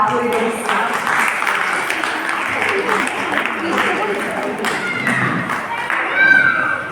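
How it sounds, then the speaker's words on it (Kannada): Audience applause at a book launch ceremony in Bengaluru: dense, sustained clapping from a seated crowd, steady for several seconds, with a slight swell near the end. "ಎಲ್ಲರೂ ಅವರನ್ನ ಪ್ರೋತ್ಸಾಹಿಸಿ ನಿಮ್ಮ ಅಮೂಲ್ಯ ಚಪ್ಪಾಳೆ ಮೂಲಕ ಅವರನ್ನ"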